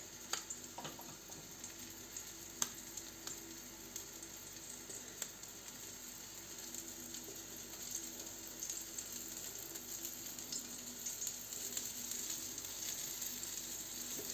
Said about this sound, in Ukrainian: І так будемо смажити всі усі котлети, усі капустяники.